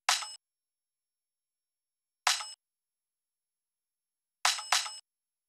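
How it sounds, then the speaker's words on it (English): A cold, metallic industrial percussion sample hits four times, short bright clanging strikes separated by silence, the last two in quick succession, crisp and isolated. "Very industrial sounding effect"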